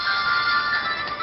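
A mobile phone plays a G.I. Joe theme ringtone, a loud, steady electronic melody with sustained tones, close and uninterrupted.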